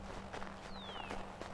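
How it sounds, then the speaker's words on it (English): Footsteps crunch over snow in the video game Assassin's Creed 3, a steady run of soft crunching steps at close range over a low background hum. "Crunchy snow."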